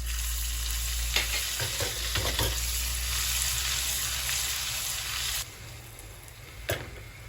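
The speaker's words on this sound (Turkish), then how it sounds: "Sıvı yağ ısındı. Nanesini ilave ediyorum. Üzerine de tereyağı koyuyorum." Dried mint and butter hit hot oil for a regional Turkish yogurt soup, giving a steady, close sizzle with a few scraping stir sounds and a brief drop near the end; no one speaks.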